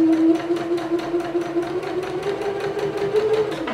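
Sewing machine stitching fabric and ribbon, running steadily with a rapid, even clatter and a sustained motor hum, close and alone.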